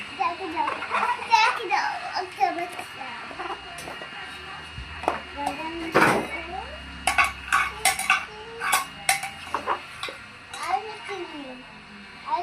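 Toy pots, pans and cutlery clatter and clink in quick irregular bursts as a child plays at cooking vegetables, with a voice and an adult talking throughout over the close, busy clanking.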